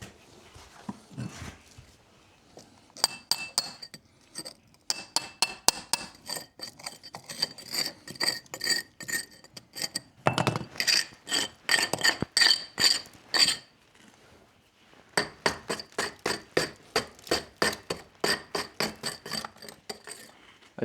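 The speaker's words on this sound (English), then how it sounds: "I just have to get a chisel so we can clean the corner." A steel chisel scrapes and chinks against hardened mortar while cleaning a brick corner, in rapid bursts of sharp, close metallic strikes and rasps, pausing briefly between runs.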